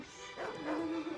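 A dog lets out a short, high whimpering whine that rises and trails off, heard alone over a faint background hiss.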